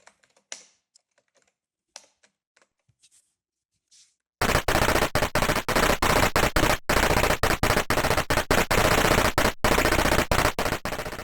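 Rapid gunfire effects from the Commando arcade game's sound hardware, played without music: after a few seconds of faint clicks, loud continuous bursts of shots rattle on steadily, broken by brief gaps.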